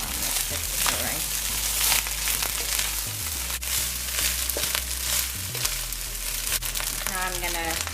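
Food frying in a pan before being mixed into saffron rice, a dense continuous sizzle with stirring and crackle throughout, and a low hum underneath.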